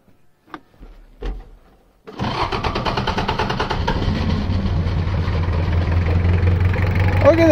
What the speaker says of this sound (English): this old Toyota diesel will just still fire up